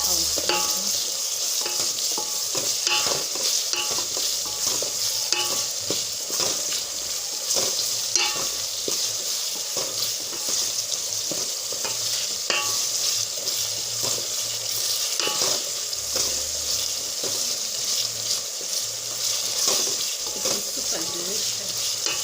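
Sauce of garden eggs for matoke with green bananas sizzles steadily in a pan, with repeated scraping stirs and light clinks over an ongoing fry hiss.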